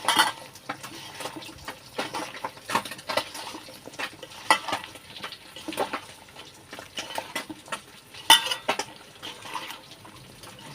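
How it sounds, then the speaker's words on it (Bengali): Vegetable curry with bele fish, onion, turmeric, salt, cumin powder and oil is kneaded by hand in a bowl, giving close, wet squelching and slapping sounds in an irregular rhythm, with occasional clinks of a utensil. "এবার এটাকে আমি এভাবে মাখিয়ে নেব হাতে মাখা তরকারি হবে"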